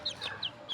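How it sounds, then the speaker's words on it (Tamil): A native country hen clucks in short bursts, four close, fairly loud calls spaced across under a second, with no voices alongside. "பாருங்க நாட்டுக்கோழி இது"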